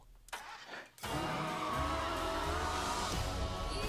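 A car engine in the Cruella trailer, a brief quiet rumble that cuts off, then a sudden loud revving roar that holds steady and close for several seconds.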